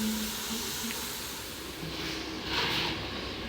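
Potato fries sizzle in hot oil, a steady hiss that swells briefly near the end, close up and without speech.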